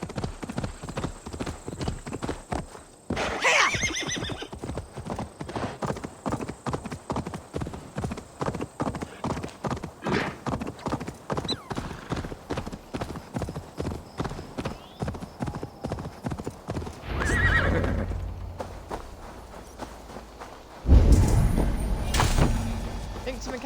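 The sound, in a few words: horse riding hooves in video game Assassin's Creed Valhalla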